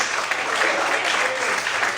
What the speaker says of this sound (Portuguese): Vamos aplaudir e glorificar a Deus.